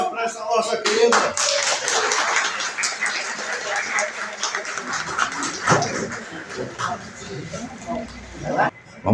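An audience at a public lecture with a choir claps steadily for several seconds, the applause continuing under voices and cheering, then thinning near the end.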